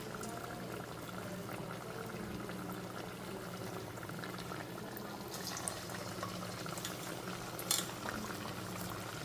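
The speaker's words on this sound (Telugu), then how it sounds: "సో చిట్టిగారులు అయితే నేను వేస్తున్నాను వడలు మొక్కజొన్న వడలు గారెలు" Corn vadas (garelu) bubbling in hot oil, a steady low boil and fizz with a few faint clinks of a utensil, moderately quiet and continuous throughout.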